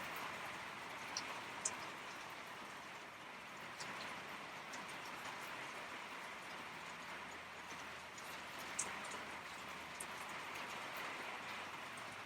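Heavy rain falling steadily outdoors, a continuous broadband hiss with scattered sharper drips and taps against surfaces, even and unbroken throughout with no talk.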